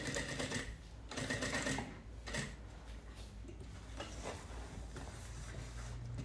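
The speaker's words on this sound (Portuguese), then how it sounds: "eu vou costurar com retrocesso" A sewing machine backstitches a reinforced bag strap, running in short bursts with brief pauses between passes, close and moderately loud over a steady low hum, with no voices.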